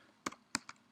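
A few soft, quick keystrokes on a computer keyboard, three or four faint clicks in under a second, close and quiet with no other sound.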